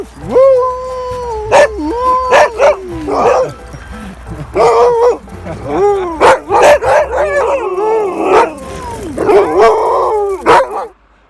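A team of sled dogs barks, yips and howls in repeated bursts, close and loud, with people talking over them at times.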